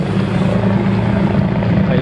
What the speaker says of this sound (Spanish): Ahí va el helicóptero arriba,